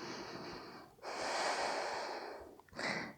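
Slow, deep breaths drawn in and let out audibly through the nose during a yoga pose, close and quiet, with a long steady exhale followed by a sharp short inhale and no talk.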